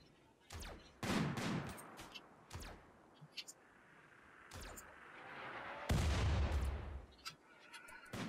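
Sharp bursts of colonists' gunfire in the video game RimWorld crack out in an irregular volley, with about six loud shots over several seconds and quieter gaps between them.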